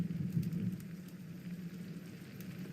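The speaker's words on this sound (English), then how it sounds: "It's raining cats and dogs." Steady rain falls in the adventure game Secret Files: Tunguska, a soft, even hiss of drops that stays constant and moderately quiet throughout, with no voices over it.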